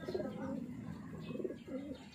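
A pet pigeon coos softly in low, rolling phrases while bathing, quiet and close, repeating a few times over faint background hiss.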